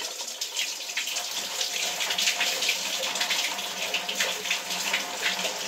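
Running water pours continuously while hair is washed, a steady close hiss and splash from a tap or shower with no pauses and no talking.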